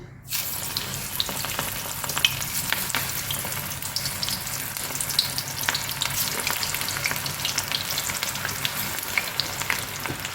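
Steady crackling sizzle of masala-coated cauliflower for chilli gobi frying in hot oil, with scattered pops and spits, close and continuous.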